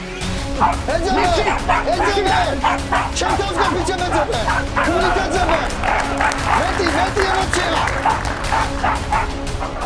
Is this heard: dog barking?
yes